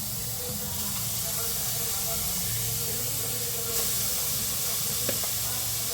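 A lit gas stove burner hisses steadily under a cooking pot, a constant close rushing sound with no breaks throughout.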